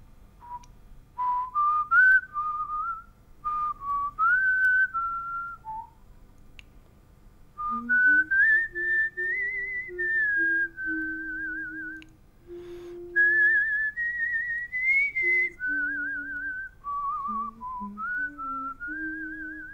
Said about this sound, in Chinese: 我给你吹口哨。